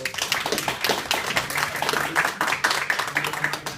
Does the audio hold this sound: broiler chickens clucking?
no